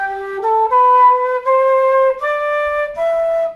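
A wooden-toned flute plays the last phrase of a traditional tune in a workshop setting: a short, bright, breathy line of about eight connected notes, close and alone, with no talking.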